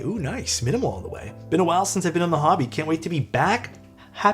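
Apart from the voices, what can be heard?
No everyday noise stands out behind the speech.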